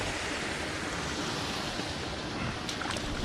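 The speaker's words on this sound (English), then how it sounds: "pull this other slat out just to keep the water moving, draining" Water rushes steadily through a drain that beavers had blocked, now flowing again after a wooden slat was pulled out, a loud continuous broadband gush close by with no pauses.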